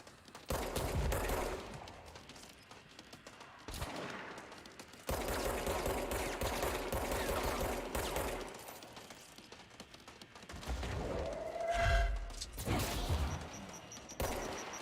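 Gunfire and a grenade blast in the video game Control, with bursts of rapid shooting separated by brief pauses, and a sharper explosive burst near the end.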